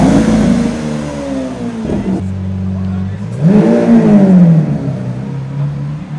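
A Lamborghini Aventador engine revs hard and then drops to a low idle before climbing again in a rising roar, loud and close, with people talking over it.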